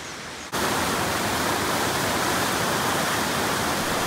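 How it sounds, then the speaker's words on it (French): Waterfall at Aoni Onsen in Japan, a steady loud broadband rush of falling water that starts abruptly after a brief quieter moment and continues unbroken, with no voices. "Et voici la cascade d'eau qui est d'ailleurs visible depuis un des onsen"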